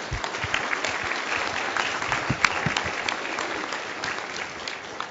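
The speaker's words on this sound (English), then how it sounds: "please join me in a round of applause, show our appreciation of their support" Sustained applause from an audience at a government leadership breakfast, a steady dense patter of many hands clapping at moderate volume throughout, with no voices over it.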